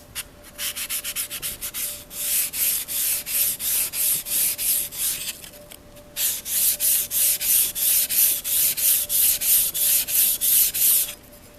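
An old paring knife is drawn back and forth across a wet sharpening stone in steady, rhythmic strokes, each a close rasping scrape, with a short pause partway through before the strokes resume.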